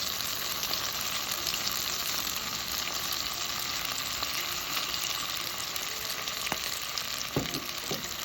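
Mirin hits a hot pan while udon ramen broth is being built, giving a loud, continuous sizzle and hiss with a few sharp spits and pops near the end.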